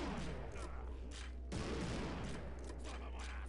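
Bursts of gunfire in Postal 2 Apocalypse Weekend crackle in quick succession, dense volleys with a sharp blast near the middle, fairly faint overall and without talk.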